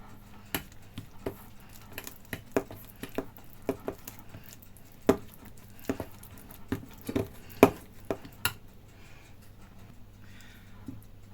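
A spoon works flour and lard together into a thick non-stick baking mixture, giving soft, irregular taps and squishes, spaced about every half second, fairly quiet and close with no talking.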